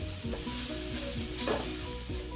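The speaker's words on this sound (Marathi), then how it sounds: "मसाला परतल्यानंतर त्यात मी घालते आहे अर्धा चमचा हळद त्याला व्यवस्थित परतून घेऊया" Spice masala with half a spoonful of turmeric being stirred in a pan for Mumbai vada pav, a soft steady sizzle with spoon scrapes against the pan, close up and without talk.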